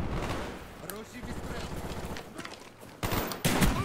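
Machine gun bursts and other gunfire crackle through a Call of Duty Black Ops multiplayer match, dense and continuous with a sharper burst near the end, while a voice talks over the battle.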